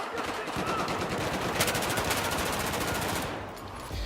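A suppressed SR-2 personal defense weapon fires rapid, dense bursts in a close-quarters Battlefield 4 match. The crackle is steady and continuous, with game ambience underneath.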